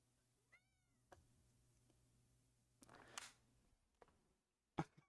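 A house cat gives a short, loud meow at the very end after a quiet stretch with scattered soft rustles and small knocks nearby.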